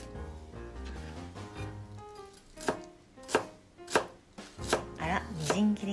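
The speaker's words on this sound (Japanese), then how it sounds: "ではセロリの上の部分のところ1本まず刻みます" Knife chopping the top part of a celery stalk on a cutting board for an avocado, walnut and raisin salad, starting with soft quick taps and then sharper, louder regular chops, close up with no talking.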